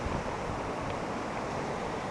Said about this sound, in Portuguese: essa é a cachoeira do estreito